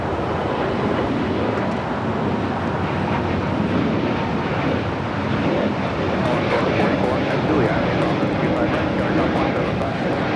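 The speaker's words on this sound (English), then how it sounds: "This is Spirit Airlines 326 taking off to Houston Intercontinental on an A320neo." A Spirit Airlines Airbus A320neo takes off from LAX, producing a continuous loud jet rumble at an even level throughout, with talk running over the roar.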